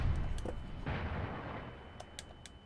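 Grenades going off close by in the shooter Killzone, a few muffled booming blasts with scattered sharp pops and crackles, fairly quiet and fading toward the end.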